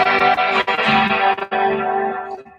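Electric guitar through a Blackstar amplifier rings out with sustained, heavily effected chords, distorted and chorus-washed, loud and close with a few choppy breaks before fading.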